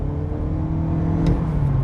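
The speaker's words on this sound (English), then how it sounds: "CVT boxes aren't my favorite, as they make a little bit of a drony noise" A Lexus UX Hybrid's CVT gearbox drones steadily while accelerating, a continuous low whirring engine hum that holds its pitch inside the cabin, with no talking.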